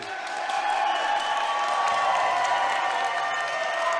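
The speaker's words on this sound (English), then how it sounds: "The crowd is absolutely loving these two." A crowd at a Proving Grounds MMA event applauds and cheers the two fighters, a broad swell of clapping and whoops that builds and stays steady, with some voices mixed into the noise.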